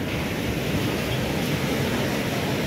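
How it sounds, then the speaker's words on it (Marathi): Continuous surf roar from sea waves on an Odisha beach, a dense, steady wash of breaking water heard up close with no voices. "बघू शकता किती उंचावर ना लाटा येत आहेत"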